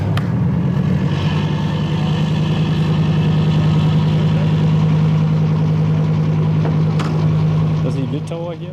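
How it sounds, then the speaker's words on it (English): A military vehicle's engine idles with a loud, steady low rumble and drone that runs throughout, with a few clicks and knocks on top, tapering slightly at the end. "I need to start the engine in a moment."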